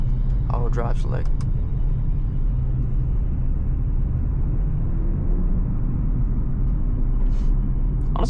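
A 2020 Audi S5 Coupe engine holds its revs during a drive, a steady low rumble of motor and road noise heard from inside the cabin, with brief speech near the start and the end.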